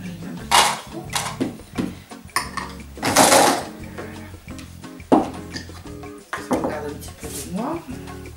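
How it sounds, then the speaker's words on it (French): Walnuts being ground in a kitchen, brief crunching and clattering bursts under steady French conversation between two people. "On va continuer par broyer un petit peu les noix."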